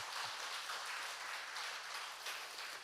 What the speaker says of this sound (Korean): 잘했다고 생각하시면 박수 한번 쳐주십시오